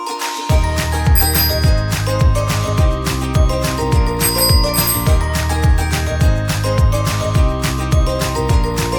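A bicycle bell rings in quick bright bursts, twice, over a loud, busy children's music track.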